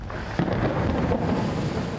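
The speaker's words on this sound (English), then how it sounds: "There is a massive storm brewing." Deep rolling thunder rumbles steadily over a wash of rain during a massive storm in the desert opal-mining town of Coober Pedy, Australia, loud and close, filling the whole stretch without pause.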